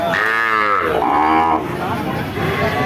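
A dairy cow standing with her calf lets out two long, loud moos in close succession, followed by lower rumbling livestock sounds nearby.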